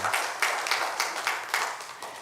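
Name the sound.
congregation applauding in church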